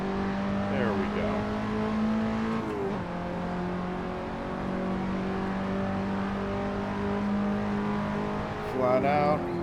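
A KTM X-Bow race car engine in a sim racing game at the Silverstone GP circuit whines and revs through gear changes at close range, with a steady buzzing tone between the pitch sweeps.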